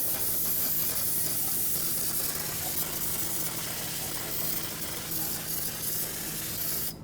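Aerosol brake cleaner hissing in a steady, close spray over a new brake rotor during a rear brake job on a 2017-2022 Honda CR-V, one continuous burst lasting several seconds with no talk.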